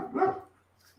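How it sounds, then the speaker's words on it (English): A single short bark from a dog indoors, close and fairly loud, followed by quiet. "That's my dog."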